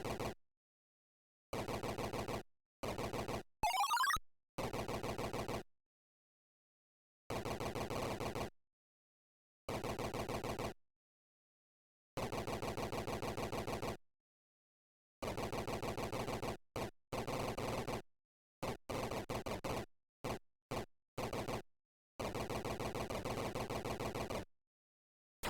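Harsh, buzzy bursts of gunfire from a Sega Master System game come in long and short blasts separated by silences, with one rising sweep early on, loud and synthetic, with no talk.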